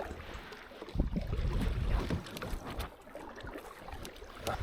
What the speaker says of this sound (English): I'm going to have to give it some paddling here, mate